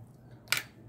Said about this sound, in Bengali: কাঁকড়াটা একটু শক্ত, এই জন্য এভাবে পিস করে নিলাম।